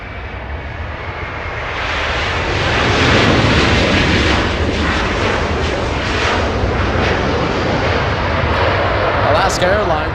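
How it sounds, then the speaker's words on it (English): Alaska Airlines jet arriving from Honolulu at Los Angeles International Airport, a loud broad jet roar that swells and holds steady as it passes close, with people talking over it. "Alaska flying in from Honolulu."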